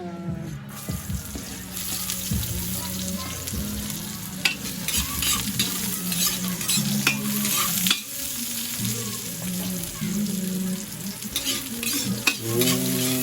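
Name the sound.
garlic and onion sautéing in oil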